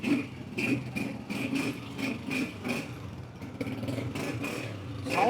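A used Honda 125 motorcycle, 2023 model, idles steadily at close range with a chugging, slightly uneven beat and a brief rev toward the end.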